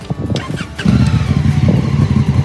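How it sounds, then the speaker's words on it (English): A 2019 Honda Africa Twin Adventure Sports motorcycle starts up close by, with a brief starter whirr followed by its engine settling into a loud, steady, throbbing idle. "I will start the bike and try if you can hear it."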